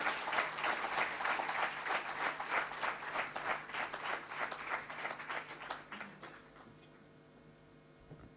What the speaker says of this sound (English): give him a thunderous applause as a welcome gesture